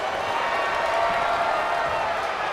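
Arena crowd noise in the WWE 2K25 wrestling video game, a steady dense roar of cheering that holds at the same level throughout without breaks.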